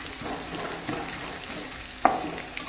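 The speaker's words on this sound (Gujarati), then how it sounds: "મરચાં થોડાક આપણે ચડવા દઈશું।" Green chillies fry in a pan for paneer masala, giving a soft, steady sizzle with light stirring and one sharp clink of utensil on the pan.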